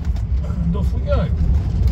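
A 1976 Rolls Royce Silver Shadow I pulls away, its low engine rumble steady and close beneath someone talking from inside the car.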